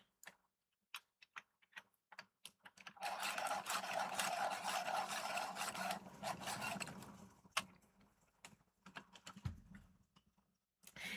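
A white colored pencil being sharpened, giving a steady close rasping, grinding scrape that runs for several seconds, with scattered clicks and taps before and after.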